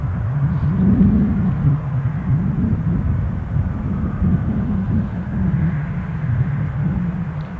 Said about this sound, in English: So next departure action for us, action. On its way back to Paris Charles de Gaulle Airport.